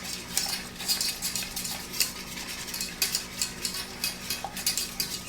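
A spoon stirs Postum powder into boiling water, making quick rhythmic scraping and clinking strokes against the cup, close up and fairly soft, with no talking.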